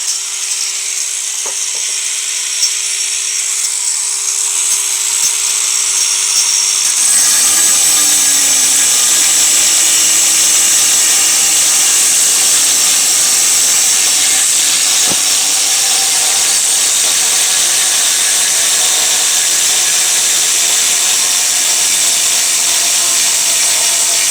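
Proxxon engraver fitted with a Distar Butterfly disc cutting tile: a motor hums steadily, then the disc bites in with a loud, sustained hissing grind that continues for about seventeen seconds, close and without talk.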